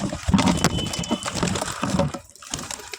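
Pigeons cooing and flapping their wings close by, a busy cluster of soft coos and wingbeats running throughout with a brief lull near the end.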